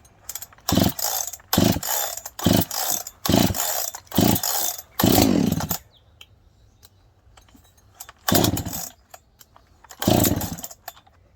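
A Husqvarna 372 X Torq chainsaw fitted with a spark screen and stock muffler, converted from a 365, revs loudly and close in repeated throttle bursts, then idles briefly before two more sharp revs.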